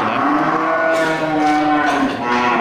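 Aceh cattle, including black-coated ones, mooing at a busy livestock market in Geurugok, with sustained low bellows layered over constant crowd and market hubbub, loud and close.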